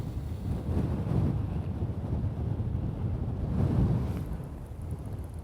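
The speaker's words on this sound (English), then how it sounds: "Oh, that is windy." Strong wind buffeting the microphone, a low rumbling roar that gusts and swells, continuous with no speech.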